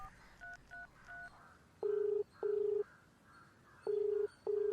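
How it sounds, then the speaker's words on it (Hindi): A phone keypad beeps through a series of dialing tones: several short quick tones, then four longer, evenly spaced beeps. "फोन करके देखता हूँ।"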